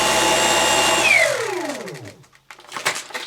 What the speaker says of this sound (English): If I turn the vacuum onto eco so it's a bit quieter.